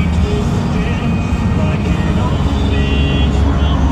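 Heavy Volvo and Mack trucks rumble past on a busy road, a loud, steady low drone of engines and tyre noise filling the scene, with faint voices mixed in.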